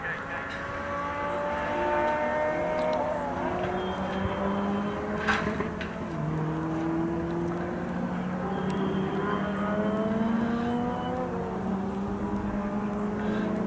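Lotus Elise race cars at Snetterton, engines droning and rising and falling in pitch as several cars pass at a distance, a continuous layered whine with a faint voice in the background.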